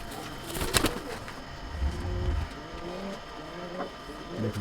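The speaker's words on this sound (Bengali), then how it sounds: "এটা কালদমা একটা নর পায়রা" Male Kaldoma pigeon cooing at close range, a few soft low throaty coos with faint rustling between them, quiet and alone.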